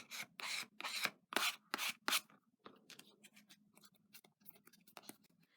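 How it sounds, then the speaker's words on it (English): Bone folder rubbed across the paper of an Extra gum box, a rapid series of scraping strokes, louder at first then softer and busier, close and without talk. "I'm going to take a bone fold and just run that across."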